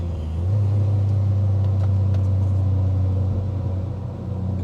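A supercharged Honda Civic Si engine hums while driving, a loud, steady low drone heard from inside the car with no talk.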